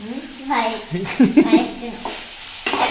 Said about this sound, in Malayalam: ഉള്ളി നന്നായിട്ട് വയലണം.